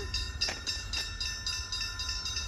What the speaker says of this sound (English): Another train from the same direction. Maybe it's a freight or something.